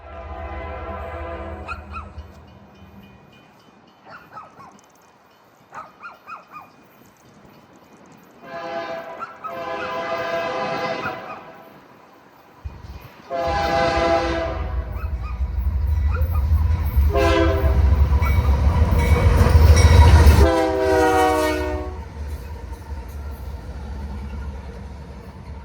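Union Pacific locomotives leading a helper set rumble past at close range near Provo, Utah, the rumble building louder, while a train horn sounds several long blasts. A dog barks faintly early on.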